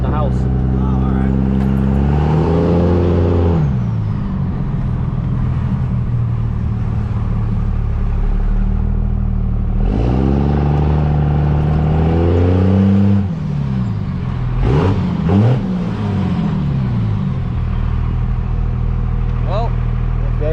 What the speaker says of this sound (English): if you ever wanted to know what a Aurora 3000 turbo sounds like, that's what it sounds like